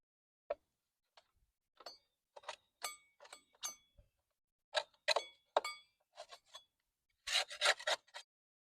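A LawnBoy AWD mower blade is sharpened by hand with rasping file strokes, close up and uneven in rhythm, about a dozen short scrapes with brief pauses and a denser flurry near the end, with no talking.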